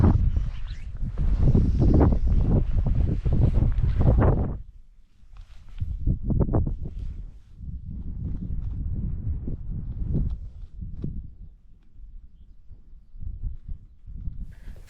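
Blustery wind buffets the microphone beside a hill loch, with heavy low rumbling gusts that drop away briefly, then return in uneven, weaker surges.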